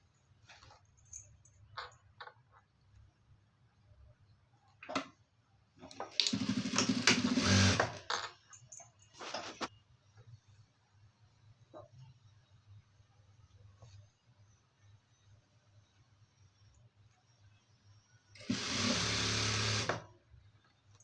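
A sewing machine stitches a blouse in two short bursts of fast whirring separated by quiet stretches with faint handling clicks and rustles.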